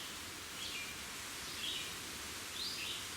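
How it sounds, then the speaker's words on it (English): Faint birdsong drifts through a quiet wood near Donnelly Dome, a few thin chirps repeating every second or so over a soft rustling background. "If I'm quiet here, you can hear the birds."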